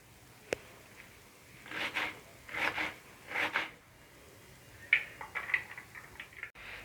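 A knife finely chopping onions for an egg gravy, with a sharp tap followed by quiet, close rasping cuts in short irregular bursts.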